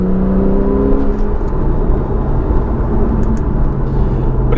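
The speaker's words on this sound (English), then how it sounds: "This one has the sports exhaust system" A Porsche 911 991 Targa 4S with sports exhaust revs its engine, a loud, steady low roar that climbs briefly early on and holds without any talk over it.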